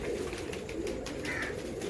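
Domestic pigeons of a cupboard-kept breed coo softly and steadily up close, with a continuous low murmuring through the short stretch and no speech.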